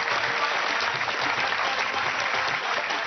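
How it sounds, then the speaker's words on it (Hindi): A crowd claps steadily and densely for about three seconds, a continuous wash of applause with no voices standing out above it. "अरे ताली बजाओ भाई।"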